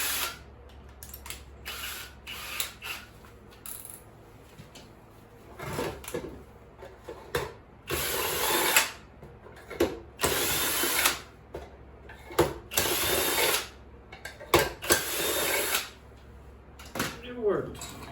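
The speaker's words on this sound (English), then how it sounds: "I'm gonna cut it off so I can chuck it up in a drill." An electric drill with a screwdriver chucked in it spins up in repeated bursts of loud whirring, stopping and starting over and over, with clattering and handling noise between runs.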